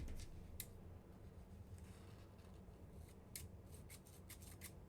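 Scissors snip through gold crochet yarn, a few sharp crisp clicks scattered over a faint hiss, closer together toward the end, quiet and close.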